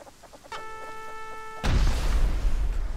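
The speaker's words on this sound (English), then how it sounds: "There's a meeting of chickens here, dude." Chickens in the video game Rust give a brief burst of clucking, followed by a loud crash and rumbling noise that swamps it.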